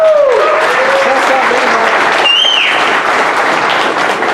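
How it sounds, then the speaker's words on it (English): An audience at a talk on classic game console security bursts into steady, dense applause that fills the room, with a short whistle-like tone partway through. "let's give Kevin a big round of applause for being a first-time speaker"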